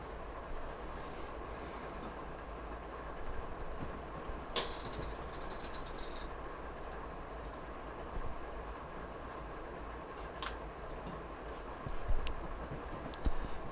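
A train in Train Simulator rolls through mountains on the Marias Pass route toward Whitefish, giving a steady rumbling wheel-and-track drone with occasional clicks and faint squeals, continuous and fairly close, with no talking.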